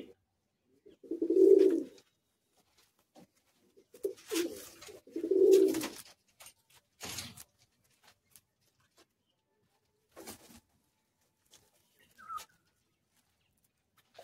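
Madrasi pigeons give deep soft coos in a few spaced bursts, with quiet rustles and small knocks between them in an otherwise still space.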